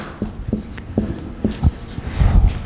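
Chalk or marker strokes on a board during a chemical engineering lecture, a series of short scratchy taps in an uneven rhythm, close and fairly clear, with no speech over them.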